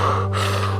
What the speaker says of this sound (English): I'm breathing very, very deep, very big. I'm taking a lot of volume of air.